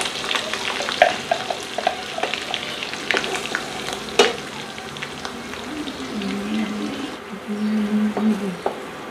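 Food frying in hot oil, a steady crackling sizzle close by with scraping stirring strokes throughout, no talk.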